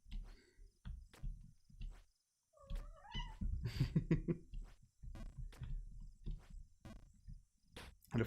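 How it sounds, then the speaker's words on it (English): A house cat meows for attention close to the microphone, with a brief rising meow among scattered soft clicks, rustles and low thumps in a quiet room. "my cat decided that she wants to have some attention"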